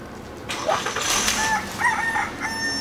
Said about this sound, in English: Up on the hillside, we have some chickens.